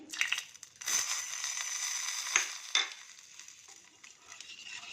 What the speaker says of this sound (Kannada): ಈ ಒಗ್ಗರಣೆ ಮಜ್ಜಿಗೆ ಒಳಗೆ ಹಾಕ್ತೀನಿ